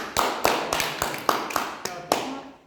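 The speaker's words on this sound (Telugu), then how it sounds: "Clap for the girl." Children clap for a girl in a classroom, about nine sharp separate claps in an uneven rhythm, close and clear.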